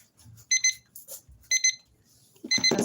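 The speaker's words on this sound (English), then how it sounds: "I set my alarm to 1 hour, and so it's done." An alarm clock rings after a one-hour timer, sounding three short bursts of bright electronic beeping about a second apart, close and clear in a quiet room.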